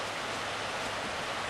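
Swiftly running creek water after a week of rain, a steady broadband rush close by with no voices, even and unbroken throughout.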